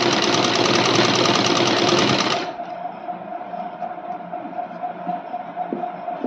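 Sewing machine stitching along a blouse hook strip, running steadily and close for about two and a half seconds, then stopping so that only a low hum and faint room noise remain.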